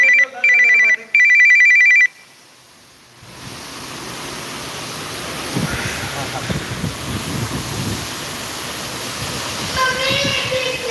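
A telephone rings twice in quick bursts, close and loud, indoors during a thunderstorm, then falls silent as heavy wind and rain roar steadily in its place.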